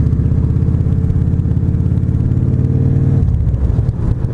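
A motorcycle fitted with air-ride suspension idles with the clutch pulled in and a clunking noise somewhere in the drivetrain. A loud, close, steady engine chug rumbles evenly and then shifts tone near the end, with no talking.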